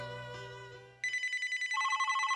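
A mobile phone starts ringing after a brief tonal lead-in, its bright electronic ringtone pulsing rapidly and repeating, close and loud with no talk.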